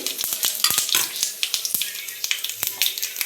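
Mustard and cumin seeds dropped into hot oil for tempering crackle and pop sharply in rapid, uneven bursts over a steady sizzle, close and fairly loud.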